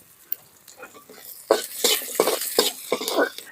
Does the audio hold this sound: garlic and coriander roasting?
yes